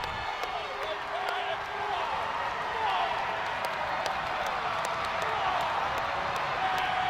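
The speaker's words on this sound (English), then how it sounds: "Crowd at Bud Walton recognizes it, hoping Arkansas can get a stop" Arena basketball crowd at Bud Walton during a tight late-game Arkansas versus Tennessee moment, a steady, dense roar of voices and scattered clapping sustained throughout, fairly loud and continuous without a clear peak.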